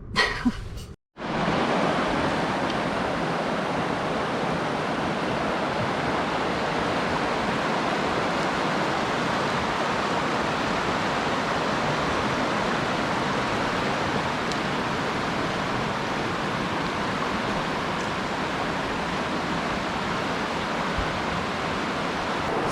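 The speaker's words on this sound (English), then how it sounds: "I'm just at like the river that you have to cross" Steady, loud rush of river water at a crossing on the way to outdoor hot springs, a continuous broadband roar that fills the scene alone after a brief bump at the start.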